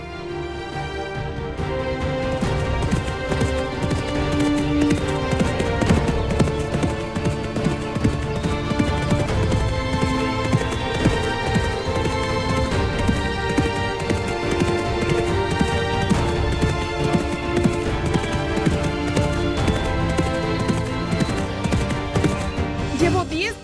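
A horse gallops steadily, its hoofbeats a dense continuous clatter that stays loud and close throughout, blended with music or background noise and with no pauses.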